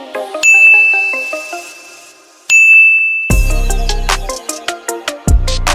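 A bright notification bell dings twice, each strike ringing out with a long sustained tone over a light tinkling musical backing, followed by a run of sharp percussive clangs and hits.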